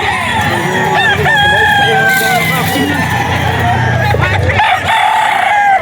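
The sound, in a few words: white streamer hennie gamecock crowing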